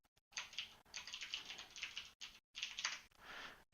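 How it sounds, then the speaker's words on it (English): Fingers tap out a quick burst of typing on a computer keyboard, close and crisp, in short rapid runs broken by brief silent gaps. "just go to Google and type unpark CPU cores"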